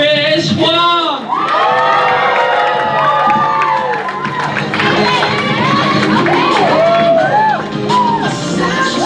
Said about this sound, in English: Can we get a round of applause for Trish Wong?